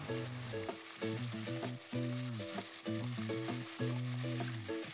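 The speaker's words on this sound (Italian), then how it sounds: "Facciamolo rosolare molto bene da tutte le parti" Meat browns in a hot pan with garlic cloves and bay leaves for a Tuscan peposo, a steady crackling sizzle running beneath loud background music.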